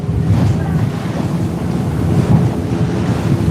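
A fishing boat at sea off Thoothukudi, heading back to shore. Constant buffeting wind and the wash of waves against the hull roar steadily and fairly loudly, with no talking.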